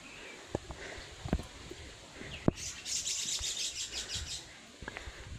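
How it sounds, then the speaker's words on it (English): Birds singing outdoors in nature at Busay, Cebu: a bright flurry of chirps and tweets in the middle, with scattered knocks and footstep-like clicks before and after, at moderate distance and no talking. "That's a very nice music to the ear. The songs of the birds."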